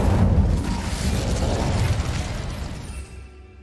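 A fire spell cast in Hogwarts Legacy erupts in a loud, dense whooshing roar of flame that rumbles for several seconds, then fades and cuts off near the end.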